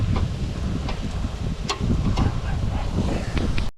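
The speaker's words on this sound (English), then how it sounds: "the wind's blowing a little bit" Steady wind rushes and buffets a microphone outdoors at a Labor Day cookout beside a smoking grill, with a continuous blustery roar and occasional faint clicks and knocks.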